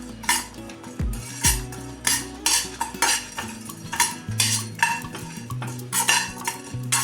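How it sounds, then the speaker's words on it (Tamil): Cumin, a dried red chilli, a piece of cinnamon and cloves are dry-roasted in a pan, heard as rhythmic metal spoon scrapes and clinks against the pan repeating roughly every half second, close and clear without talk. "ஒரு ஸ்பூன் ஜீரகம் ஒரு காஞ்ச மிளகாய் ஒரு சின்ன துண்டு பட்டை ரெண்டு கிராம்பு இது எல்லாத்தையும் ரெண்டு நிமிஷத்துக்கு வறுத்துக்கலாம்"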